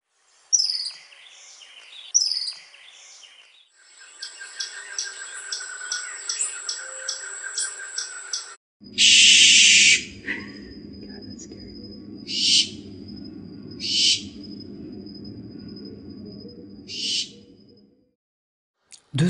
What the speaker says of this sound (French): Deux oiseaux nocturnes et crépusculaires qu'on ne voit pratiquement jamais, l'engoulevent, qui existe aussi en Europe, et le lamentable ibijo.